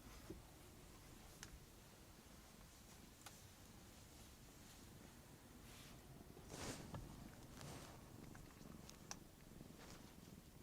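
A pet cat purrs very faintly close to the microphone, a soft continuous low rumble with a few small ticks and rustles, quiet throughout with no talk.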